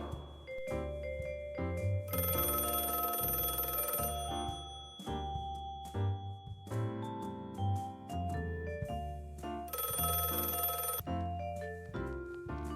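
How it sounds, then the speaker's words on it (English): An old telephone rings in repeated bursts of bright bell tone over a musical score, each ring cutting in loudly and stopping, with no talk. "The phone kept shouting its accurate tone."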